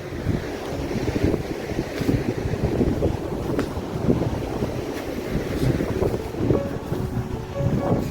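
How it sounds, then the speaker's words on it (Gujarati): Strong wind buffets the microphone at a beach, with sea waves breaking and washing beneath the gusts in an uneven, rushing roar that swells and dips throughout. "જો અત્યારે કેવો પવન આવે જોરદાર પવન આવે અહીંથી દરિયાની લહેરો પણ સંભળાતી છે"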